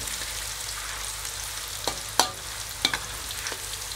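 Crushed garlic sizzles steadily in hot oil in a wok, a constant close crackling hiss punctuated by a few sharp clicks and scrapes of stirring, no voices.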